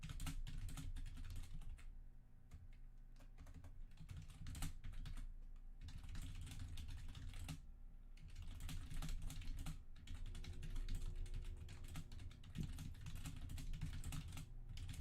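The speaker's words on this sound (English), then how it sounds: "you could probably hear me clacking away on the frickin' mic" Rapid, continuous clacking of typing on a computer keyboard, picked up close by a microphone while a Kingdom Hearts 358/2 Days game session runs, steady bursts with only brief pauses throughout.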